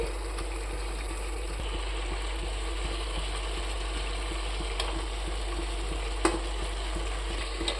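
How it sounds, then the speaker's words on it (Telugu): Fried chicken pieces being stirred into biryani gravy in a pot, a continuous low sizzle with occasional spoon scrapes and clicks, steady and close, over a constant background hum. "ఇప్పుడు ఈ ముక్కలకి ఈ గ్రేవీ మొత్తం పట్టేలా నల్లగా కింద నుండి కలుపుకోండి"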